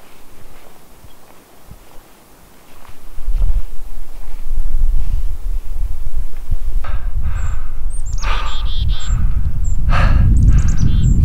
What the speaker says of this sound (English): But listen to those birds.